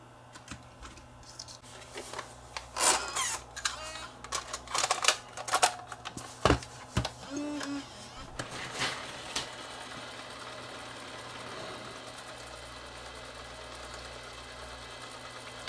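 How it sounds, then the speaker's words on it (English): An 8mm video tape rewinder clatters with a burst of uneven mechanical clicks and knocks, then settles into a quiet, steady whirring hum as the tape winds. "get the rewinder and we'll rewind it and make sure it doesn't break on rewind"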